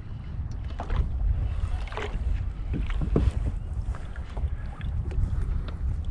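Wind gusts buffet a small boat drifting on open water, a steady rushing roar with soft knocks and water sounds, close and moderate, no voices.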